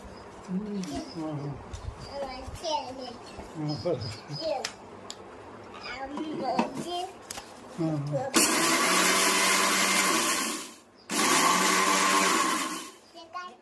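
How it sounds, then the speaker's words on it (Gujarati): A kitchen mixer grinder pulverizes fenugreek seeds into powder, running loud and close in two sustained bursts with a short break between them, after a stretch of talking. "મેથીને ભૂકો કરવાનો મિક્સરમાં"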